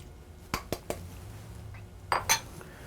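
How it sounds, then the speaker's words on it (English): A spoon knocking against a bowl while chopped clams are stirred into thick clam fritter batter, with a few sharp clinks early on and a brief double clatter later, close and fairly quiet. "I'm just going to stir those in until they're all blended in"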